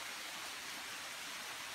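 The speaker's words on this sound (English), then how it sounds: "hopefully the sound of the water coming through" Water rushes steadily through a woodland stream at Lightspring Glen on an August morning, a dense, even hiss with no pauses and no voices.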